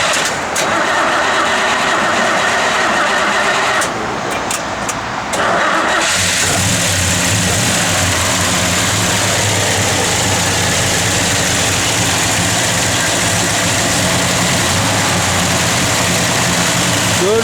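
A 1970 Chevrolet Chevelle SS big block V8 cranks and fires, then settles into a loud, steady, rumbling idle heard close up with no talking.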